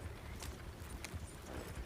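Horse hooves clip-clopping at a steady trot in Red Dead Redemption 2, quiet and muffled, in an even repeating rhythm.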